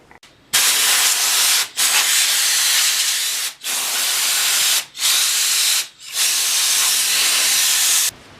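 Strong wind blowing outdoors, a loud broadband rushing roar in long sustained gusts separated by brief near-silent lulls, with no talking.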